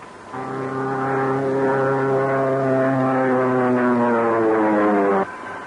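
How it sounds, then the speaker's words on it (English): A propeller airplane in a power dive, from a 1935 film serial, gives a loud, steady, droning engine roar with a rising and falling pitch. It sounds for about five seconds and then cuts off abruptly, with no voices over it. "They're in a power dive."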